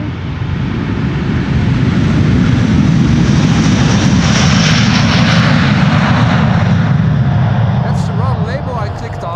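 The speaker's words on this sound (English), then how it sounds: "Because this is an A330neo. There it is." A Delta Airlines Airbus A330neo departs Amsterdam Schiphol, a loud close rumbling jet roar that swells and holds, with a voice speaking over it near the end.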